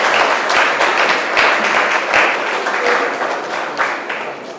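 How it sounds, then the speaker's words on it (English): Sustained applause from an audience at a calypso awards ceremony, a dense wash of many hands clapping steadily for several seconds with no talk over it. "Let's have another round of applause for Mr. Pascal."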